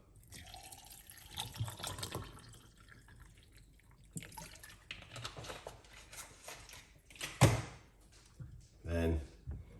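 Tap water runs steadily into a container holding onion for alkaline water, a continuous splashing stream with a few louder knocks, heard under a person talking.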